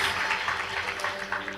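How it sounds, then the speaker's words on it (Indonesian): A church congregation claps together at a Sunday worship service, a dense, steady wash of many hands sustained for a couple of seconds without a break. "Kita beri tepuk tangan buat Tuhan Yesus."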